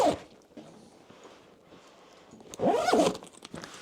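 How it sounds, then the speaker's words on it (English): A zipper is drawn along a waxed canvas bag, producing soft rasping scrapes and a louder, quicker pull near the end, close up with faint handling noise. "I'm gonna zip this up first"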